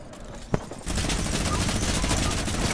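Fortnite video game gunfire erupts after a single sharp shot, turning into a dense, loud, sustained barrage of rapid automatic fire that continues unbroken to the end.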